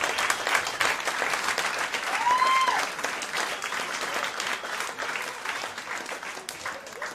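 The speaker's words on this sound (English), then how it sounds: "Give them a big round of applause." Audience at a magic show in Atlanta breaks into a round of applause, steady clapping for about seven seconds with a brief whistle or cheer rising above it, moderately distant.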